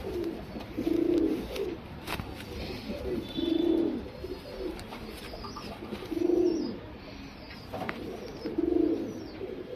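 A male Jacobin pigeon coos close by, four low throaty rolling coos spaced a few seconds apart, with faint background chirps and rustling.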